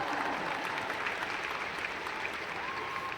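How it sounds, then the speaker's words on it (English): Quiet, polite golf-style applause from a seminar audience at a live coaching summit, a steady patter of claps from a crowd, with no talk. "It's a quiet applause. It's a golf applause."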